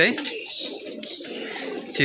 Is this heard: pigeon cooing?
yes